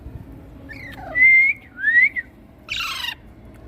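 A Pakistani Alexandrine parakeet gives three clear, loud calls: two rising whistled notes, then a harsher squawk, each well separated over a low background hum.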